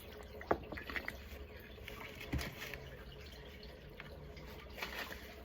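Faint trickling and splashing water over a soft steady background as seedlings, including bell peppers, are watered in soil, with a few small drips and splashes, close by and quiet.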